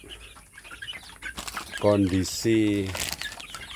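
Free-range village chickens after feeding, a few loud nearby clucks and drawn-out calls, with rustling around them and a person talking in between.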